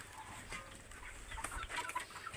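Chickens cluck softly while being fed on a rooftop near livestock, a faint, scattered run of short clucks and rustling over low background noise.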